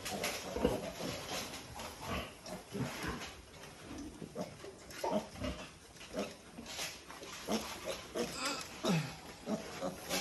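Pigs on a pig farm in their pens grunt and squeal now and then, heard faintly and at some distance. The sounds are scattered and irregular, and there is no clear talking.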